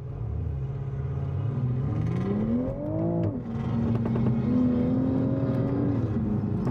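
A car drives a chase lap on a racetrack with a steady close engine rumble. The pitch climbs and falls as it revs through gears and corners, and a whirring drone runs under it.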